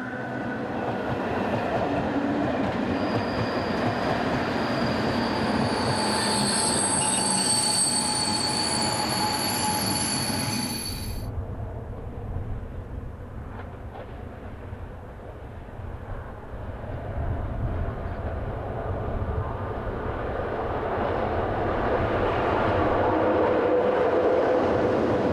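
A mid-1970s electric multiple unit train near Kosice rolls past with a loud, continuous rumble. A high wheel squeal runs through the first half, then the noise settles into a steadier roar that swells again near the end.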